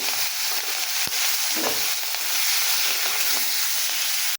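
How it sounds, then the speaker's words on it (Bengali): Shrimp fry in oil with salt and turmeric in a kadai, giving a steady, close sizzle and hiss that runs without a break, with a few brief clicks of stirring. "এই যে চিংড়ি মাছটা ভেজে নেব"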